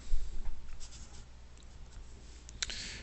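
A pen scratches steadily across paper as an equation is written out by hand, a soft, close, continuous scraping with small taps and strokes.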